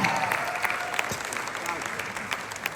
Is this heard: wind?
no